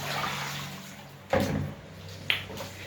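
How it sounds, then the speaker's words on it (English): Pork being washed in water for curry seasoning, with soft sloshing and splashing plus two brief louder splashes, close and without talk. "So we're washing the meat."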